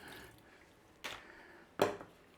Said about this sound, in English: let's just drain some of that water that's come out of there